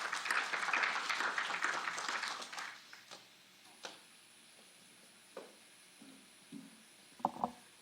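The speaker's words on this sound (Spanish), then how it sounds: "Por favor, permítame recibir con fuertes palmas a Ximena Cervantes" Applause from a conference audience greeting a speaker at a political communication congress, dense and loud for the first three seconds, then fading into sparse scattered claps and faint room noise.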